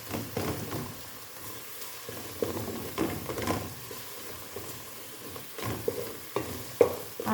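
Onions fry and are stirred in a pan for a split pea stew, a soft sizzle broken by repeated scraping and clacking strokes, fairly quiet throughout.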